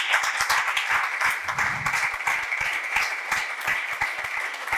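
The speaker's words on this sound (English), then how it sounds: "a very big round of applause" Audience at a yoga conference session applauding a speaker, a moderate run of distinct claps from a modest crowd in a hall, with a brief voice murmur partway through.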